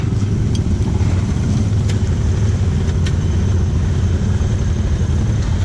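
An off-road vehicle engine drones steadily and loudly at low pitch through mud at Gator Run. A few faint clicks and knocks sit above the continuous rumble.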